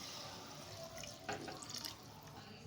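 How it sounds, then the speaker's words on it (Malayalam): Water streams softly and steadily into a cooking pan holding tomatoes, salt and turmeric for an egg kurma, a quiet continuous pour with no talking. "നമുക്ക് കുറച്ച് വെള്ളം ഒഴിക്കാം."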